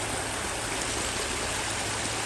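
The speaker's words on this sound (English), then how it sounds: "Waterfall just started around this corner right here, which is pretty cool." A small waterfall trickles around a rock in an aviary enclosure, a constant close rush and splash of water that stays even throughout, with no voices.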